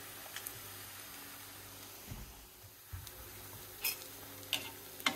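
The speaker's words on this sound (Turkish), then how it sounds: "Bu şekilde arkadaşlar arkalı önlü kızartıyorum." Cheese-wrapped crepes fry in a pan in a village kitchen with a faint, steady sizzle, broken by a few soft clicks and taps near the end.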